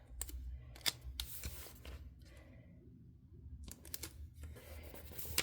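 Scissors snipping paper floral cutouts for a planner layout: a few sharp, close cuts spaced irregularly, with quiet gaps and soft handling rustles between them, fairly faint overall.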